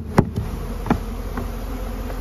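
Honeybees robbing a hive box, a dense, steady buzzing swarm with a few individual bees droning past nearby.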